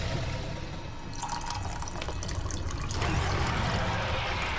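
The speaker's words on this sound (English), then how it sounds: "I'm just pouring the wrong water into my cocoa." Water trickling and dripping as it is poured into a cup of cocoa in the game Okami HD, a steady liquid pour with splashy bursts, no talking.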